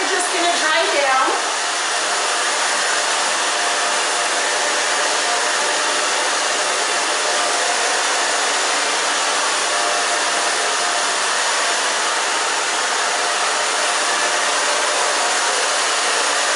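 A hair dryer runs steadily and loudly up close while it dries hair for a short haircut, a continuous whooshing roar that holds for the whole stretch after a brief start.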